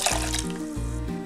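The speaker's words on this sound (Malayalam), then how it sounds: "വെള്ളം ഒഴിക്കാം." Water poured into a clay pot while making fish curry, a steady close pour lasting just over a second with no talk over it.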